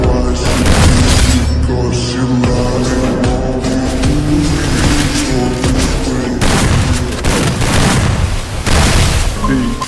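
Gunfire and explosions in the Free Fire mobile battle royale game, rapid repeated loud shots and booms throughout, with a voice speaking over the action.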